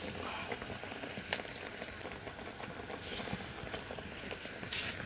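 Battered eggplant slices frying in hot oil, a steady quiet bubbling hiss with faint crackles and occasional small pops throughout.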